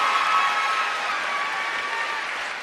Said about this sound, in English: Just give them both a round of applause.